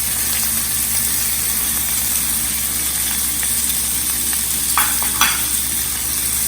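Chopped capsicum sizzles in a pan of masala for paneer, a steady, loud frying hiss with a couple of faint stirring clinks near the end, no talk.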